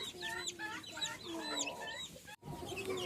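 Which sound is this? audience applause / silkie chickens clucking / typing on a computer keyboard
silkie chickens clucking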